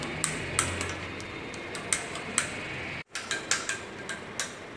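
A spoon clinks against a bowl while ragi malt is stirred together with curd, salt and onion, giving light, irregular taps and scrapes close by, with a brief cut partway through.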